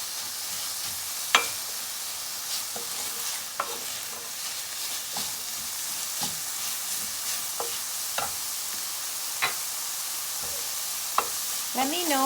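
Garlic and vegetables fry in a pan with a steady, close sizzle, broken every second or two by sharp scrapes and clacks of stirring.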